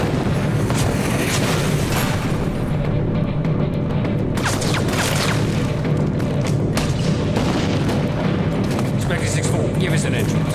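Airstrike explosions in a Call of Duty video game, with repeated heavy booms and blasts landing over a dense, continuous battle din.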